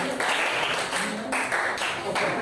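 A classroom of students applauds a presenter, a short burst of dense clapping that swells and fades in waves.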